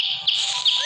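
A baby bird in the Boku Boku video game chirps in a bright, clean run of high whistling tweets with rising and falling sweeps, close and clear over a soft low pulsing backdrop.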